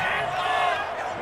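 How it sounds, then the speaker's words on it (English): Home crowd roaring after a penalty call in Madden NFL 21, a Cleveland Browns at Chicago preseason game on PS5, with a steady, loud wash of cheering throughout. "This home crowd, they're happy with that call"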